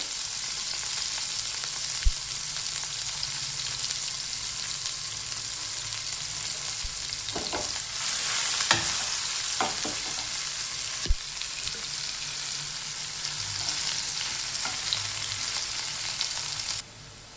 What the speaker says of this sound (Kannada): ಹಾಗೆ ಆನಿಯನ್ ಹಾಕ್ಕೊಳ್ಳಿ ಈರುಳ್ಳಿ ಹಾಕ್ಕೊಳ್ಳಿ ತುಂಬ ಸಿಂಪಲ್ಲಾಗಿ ಮಾಡ್ತಾಯಿದ್ದೀನಿ ಫ್ರೈ ಮಾಡಿ